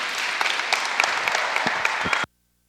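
A church congregation applauds steadily during a worship service, a full wash of many clapping hands with a few sharper nearby claps, then cutting off abruptly into silence.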